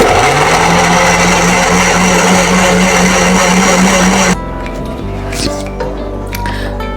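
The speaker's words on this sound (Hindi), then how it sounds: "अब इसको ब्लेंड करते हैं।" A loud blender whirs steadily for several seconds blending onion, tomato and water, then cuts off, leaving quieter clinks and faint handling sounds.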